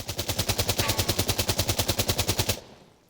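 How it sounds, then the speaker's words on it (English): Steyr AUG A3 rifle firing on full auto in the game Insurgency Sandstorm, a loud rapid burst of about two dozen evenly spaced shots lasting around two and a half seconds before cutting off, with no talk. "try and keep these basically center mass shots at full auto."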